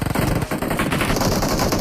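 Rapid automatic gunfire in the battle royale game PUBG Mobile, a loud close burst of rattling shots that continues throughout.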